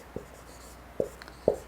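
Chalk or marker writing on a board during a physics lecture on electric current: three short, distinct taps and strokes, close and fairly soft, with a quiet room in between.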